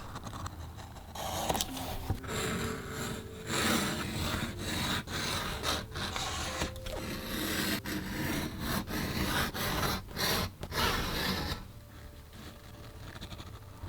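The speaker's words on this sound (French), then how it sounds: "le cuir est vraiment très souple, ce qui le rend beaucoup plus difficile à découper avec un cutter" Utility knife slicing through soft leather for a handbag, giving a series of close scraping, rasping strokes in uneven bursts that stop near the end.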